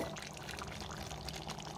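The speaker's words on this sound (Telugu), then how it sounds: "ఈ కర్రీ సరిపాను ఇది ఉడకటానికి సరిపాను వాటర్ వేసుకుందాం" Water pours steadily into a pot of country chicken curry, a continuous splashing gush with no pauses, close by.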